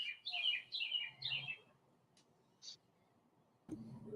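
Birds chirp in a few quick, high bursts early on, then go quiet apart from a single faint tweet, before a dull low thump near the end.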